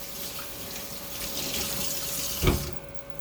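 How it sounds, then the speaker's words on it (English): Tap water runs steadily into a kitchen sink while hands are rinsed during home cooking, a close, continuous broadband splash with a brief louder gush near the end before it cuts off. "I'm just going to rinse my hands real quick."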